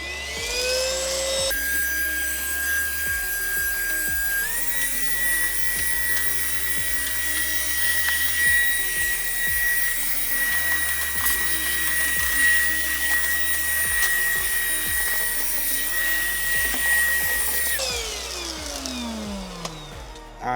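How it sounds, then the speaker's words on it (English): Vacuum cleaner running on the floor of an RV around a heater vent, a loud continuous whirring drone that holds steady throughout, with shifting rubbing and bumping as the nozzle moves. "let me get down here with the vacuum and give this area a nice"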